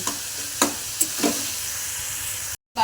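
Teasel gourd (kakrol) frying in a pan gives a steady, close sizzling hiss, broken by a few short stirring scrapes before it cuts off briefly near the end.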